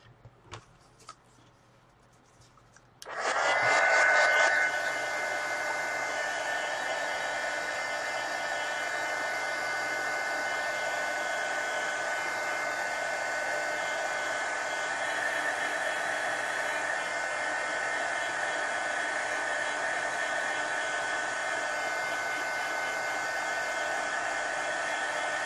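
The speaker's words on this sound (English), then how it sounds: "So I'm going to hit this with a heat gun." A heat gun blowing on a watercolor base coat switches on after a few soft clicks and then holds a steady, loud whooshing hiss with a constant motor hum for over twenty seconds.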